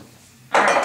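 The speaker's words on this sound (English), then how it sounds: "We'll stir some more." Spoon scraping and clattering in a bowl of cracker mixture, a sudden loud close burst of stirring after a quiet moment.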